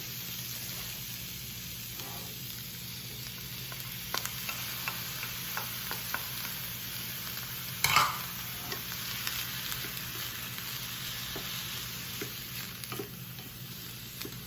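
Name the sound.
onions and peppers sauteing in a skillet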